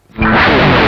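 A Charvel Pro Mod DK24 electric guitar with the tone control fully open rings out in a loud, saturated distorted chord that starts after a brief silence and sustains at full volume.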